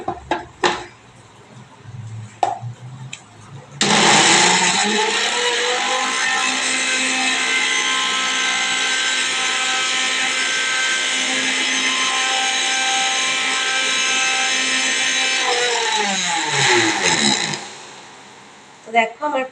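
A mixer grinder whirring loudly and steadily for about thirteen seconds, finely grinding ginger, garlic and onion paste, then spinning down, with a few clicks and knocks before and after.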